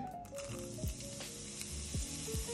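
Vegetables for a vegetable risotto sizzle steadily in olive oil in a pan, a continuous close frying crackle with a few soft stirring scrapes and low sliding tones, no voices.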